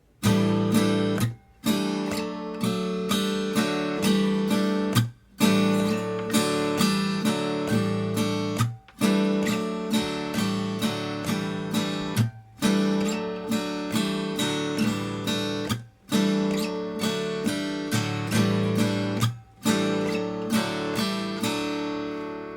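Acoustic guitar strummed in a steady down-up rhythm, with regular short muted gaps and slides between chords; full and close, no voices.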